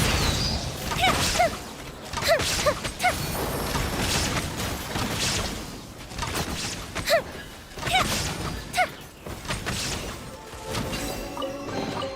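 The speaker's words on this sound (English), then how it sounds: "Here come the fireworks!" Fireworks burst repeatedly in a video game, a series of sharp crackling explosions arriving in irregular clusters over a continuous rumbling backdrop.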